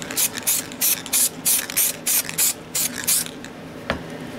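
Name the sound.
spray painting a door locker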